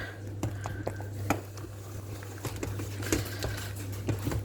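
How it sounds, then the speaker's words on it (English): Beef stew is stirred in a Pressure King Pro pot with a wooden spoon, producing soft wet squelches and scattered spoon taps against the pot over a steady low appliance hum. "So I'll just give it a good stir in."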